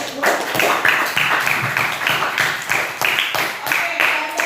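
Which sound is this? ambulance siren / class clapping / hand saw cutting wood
class clapping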